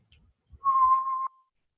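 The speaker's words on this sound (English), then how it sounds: "do a C6, I could whistle that." A single clear, high whistled C6 note held steadily for about half a second after a few faint soft noises, close and isolated.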